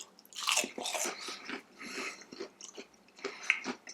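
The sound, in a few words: biting into crunchy panko-breaded fried cheese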